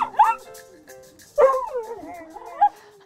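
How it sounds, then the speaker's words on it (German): A rescued street dog, newly taken in for foster care, yips and barks, then whines and whimpers in long, wavering, howl-like cries. The dog is close and heard alone, with no talk. "Also ein Hund macht ja hier die ganze Zeit richtig Lärm."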